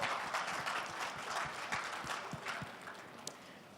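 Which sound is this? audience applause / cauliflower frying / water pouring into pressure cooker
audience applause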